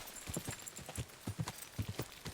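Horse hooves clip-clopping in the video game Kingdom Come Deliverance 2, a steady run of soft thuds at walking pace, faint and alone.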